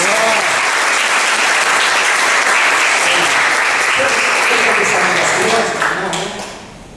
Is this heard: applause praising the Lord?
yes